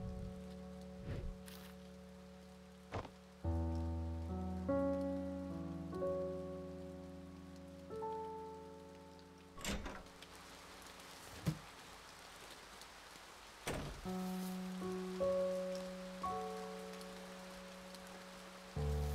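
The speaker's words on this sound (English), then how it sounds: "It's raining, take the umbrella." Steady rain patters on surfaces in the video game A Bird Story, soft and continuous beneath gentle musical tones and a few sharp knocks, with no talking.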